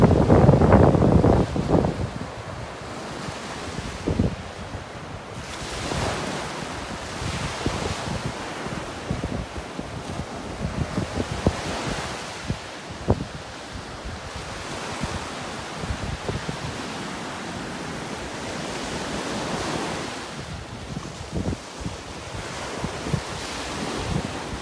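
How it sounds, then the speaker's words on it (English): Ocean surf rolls onto a beach in North Naples, Florida under a northwest onshore breeze, with waves breaking in repeated washes and steady wind noise buffeting the microphone throughout. "Got an onshore breeze today. It's coming out of the northwest. That's why we're having these waves."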